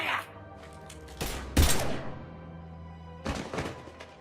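Gunfire in the video game Mass Effect 3: a few sharp, loud bursts of shots and heavy impact thuds spaced irregularly over a low background hum, without speech.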